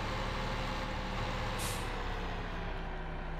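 A truck's air brakes in Farming Simulator 2015 let out one short, sharp hiss midway through, over a steady low engine drone with no talking.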